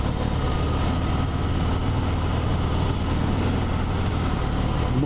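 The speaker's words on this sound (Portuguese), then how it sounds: "Moto sem barulho não tem graça, a gente gosta de barulho" A 2020 Harley-Davidson Fat Bob motorcycle engine runs at a steady, loud idle, with a deep low rumble throughout and no obvious revving.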